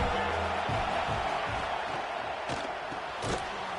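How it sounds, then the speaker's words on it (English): A dense, steady roar from a large college football stadium crowd on third down, loud and continuous, with occasional sharper shouts rising out of the din. "The Tide crowd rolling noise down on the Saban field on third down."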